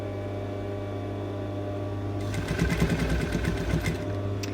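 A sewing machine stitching binding along a dress neckline, a faint steady hum that breaks into a soft rapid stitching rattle partway through.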